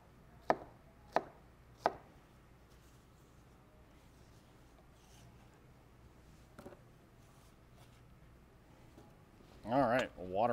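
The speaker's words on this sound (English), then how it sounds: "So with one of the quarters, I just cut it in half down the center, and then cut it into chunks." A knife cuts pineapple quarters into chunks with three crisp, close chops in quick succession, then a quiet stretch before a person briefly speaks at the end.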